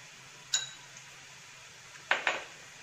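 A spoon stirs Kashmiri chili into a Kottayam-style beef roast in a pan, giving three bright metallic clinks, one alone and then two close together, over a quiet background.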